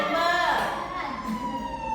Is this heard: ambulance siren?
yes